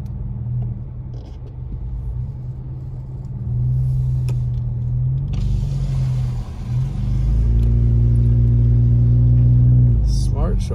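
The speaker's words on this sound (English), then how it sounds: "Cars coming." Cars driving along a snowy mountain road in Big Bear, California, their engines rumbling steadily near the microphone and swelling louder over the last few seconds as vehicles pass.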